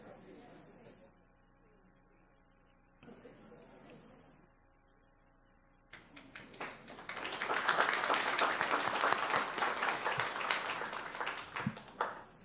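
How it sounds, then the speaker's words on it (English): Loud audience applause for a School Psychologist of the Year Early Career Award recipient at a Palm Beach County meeting, building from quieter room sound into a sustained, dense burst of clapping that runs several seconds before tapering. "Let's give her a round of applause."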